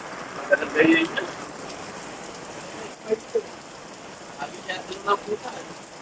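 Heavy rain drums steadily on a tarp roof as flooding sets in, a dense, continuous patter close overhead, with people talking briefly over it.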